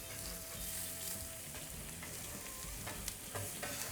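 Asparagus sizzles on a barbecue grill while being stirred around, a dense, continuous close-up crackle and hiss with small scraping ticks and no voices.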